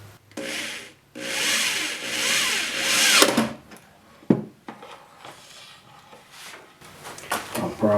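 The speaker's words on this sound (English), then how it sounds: "Help if the drill's going the right direction." Power drill driving two-inch screws into a wooden workbench, bursts of whirring and grinding against the wood separated by brief pauses, then clattering handling sounds, close and loud.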